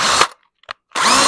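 A cheap Harbor Freight power drill bores a quarter-inch pilot hole into a powder horn, whirring loudly in a steady burst, cutting out briefly with a small click, then spinning back up at full volume.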